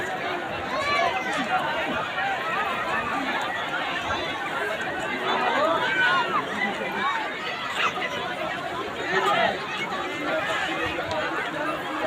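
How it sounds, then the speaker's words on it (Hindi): A large crowd of bathers at the Markandey Mahadev temple on the Ganga-Gomti confluence at Kaithi on a busy Monday, heard as a steady, dense hubbub of many voices chattering near and far, with occasional laughter throughout. "आज सोमवार का दिन है, इसलिए बहुत ज़्यादा भीड़ है यहाँ।"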